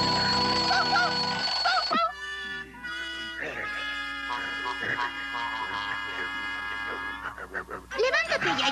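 A telephone rings for a long-distance call in a cartoon, with a bright repeating electronic trill at the start and end, around spoken dialogue and music in the middle.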